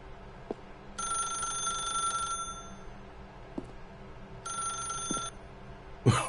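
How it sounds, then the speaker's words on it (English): A telephone rings in The Stanley Parable, played on PS4: two separate bursts of a bright, steady electronic bell, each a second or more long, with a short quiet gap between them and no talking. "Pick up the phone and it will take us back home"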